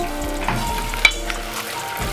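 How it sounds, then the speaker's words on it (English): Tomato paste fries in a pot for biryani pilau, sizzling loudly up close while a utensil stirs and scrapes through it. "I'm waiting for the tomato paste to fry."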